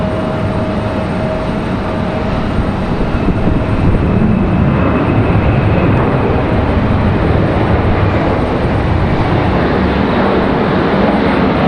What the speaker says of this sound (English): Got another United on the move.